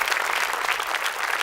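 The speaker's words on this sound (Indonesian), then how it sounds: "Tepuk tangan buat kalian semua." Audience at an Indonesian stand-up comedy show applauds steadily, a dense, even wash of clapping that holds at a constant level for the whole short stretch with no talk over it.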